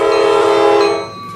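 A train's horn blares loud and close in the Roblox RO-Scale Northern California game, a sustained multi-tone blast that cuts off abruptly near the end, leaving a faint trailing hum.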